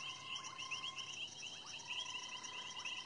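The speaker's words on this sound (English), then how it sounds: "Many different painted reed frog, well, many different forms, color forms of the painted reed frog." Painted reed frogs calling in a continuous chorus, with repeated high-pitched chirping notes and a sustained shrill trill, steady and fairly faint, with no one speaking.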